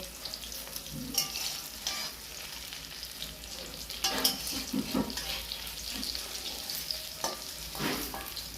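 A torn bay leaf and a whole dried chilli stirred in hot oil, a close, moderate sizzle with scattered spatters and occasional scraping strokes of a spatula.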